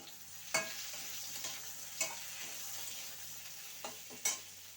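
Ingredients being mixed in a frying pan give a low, steady sizzle with a few sparse spoon clicks against the metal, fairly faint and without talking.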